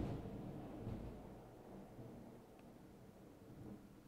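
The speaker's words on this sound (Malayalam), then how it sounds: "ആ ഇടിയും ടെറസിലാണോ വന്ന് വീണത്" A storm with a low rolling rumble of thunder that fades gradually over a few seconds, fairly faint and distant, with a soft wash of rain beneath.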